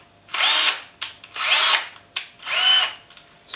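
A Bosch GSR 12V-15 cordless drill driver spins up three times in quick succession, each a close, loud whirring burst of about half a second that rises in pitch and then winds down.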